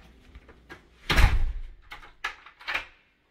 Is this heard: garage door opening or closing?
yes